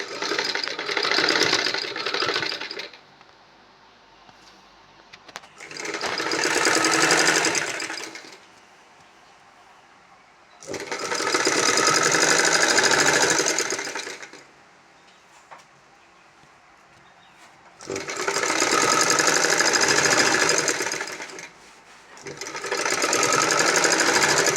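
A sewing machine stitches a yoke pleated nighty in five loud bursts of steady whirring, each a few seconds long, separated by short quiet pauses.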